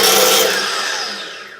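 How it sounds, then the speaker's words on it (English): A drill bit bores out the hole of a tobacco pipe on a homemade lathe, a loud, close grinding whir that gradually fades over under two seconds. "If I took a drill bit and just bored it out just a smidge"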